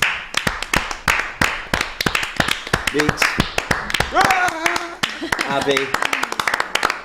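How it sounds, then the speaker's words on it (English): A small studio group on a live football transfer deadline show claps in a loose round of applause, sharp close hand claps mixed with chatter and laughter from several people. "round of applause for everyone"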